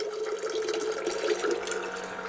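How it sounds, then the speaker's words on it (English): Water runs in a steady stream from the push-button faucet of a DIY 5-gallon jerry can at camp, a close, continuous splashing pour without talk. "you press the button, water flows out"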